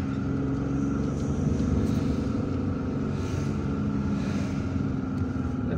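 A car driving through the streets of the Hussein Dey neighborhood in Algiers, a steady low engine and road rumble holding evenly throughout with faint traffic noise above it.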